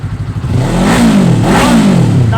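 An FKM 400cc motorcycle engine revs close by, a loud throaty burble that climbs and falls twice in quick blips over a rumbling idle.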